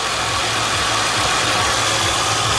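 A 1999 Ford Crown Victoria P71 engine idles steadily and smoothly, a loud, even low rumble that holds without change and has no voices over it.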